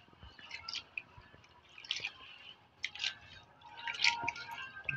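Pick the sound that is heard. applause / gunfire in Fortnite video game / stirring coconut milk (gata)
stirring coconut milk (gata)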